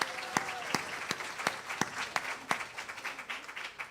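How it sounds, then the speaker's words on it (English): A conference audience at a plenary session applauds a choir as it leaves the room, producing a soft, steady wash of clapping with a few sharper nearby claps standing out. "let's give them another round of applause."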